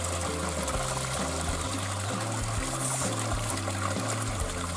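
Mountain spring water trickles and splashes steadily nearby on Mt. Gongen as someone washes their face in it, a continuous close gurgling flow with no talking.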